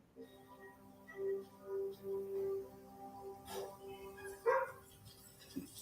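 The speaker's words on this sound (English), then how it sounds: "Dog's like, yeah, that's Clark." A dog in a scene from the film Man of Steel barks and yips a few times at moderate distance, short spaced barks over quiet background.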